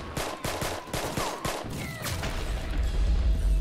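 Rapid bursts of gunfire crack through a busy battle in the Roblox war game Shell Shock, several close sharp shots in quick succession, then a deepening rumble of artillery building toward the end.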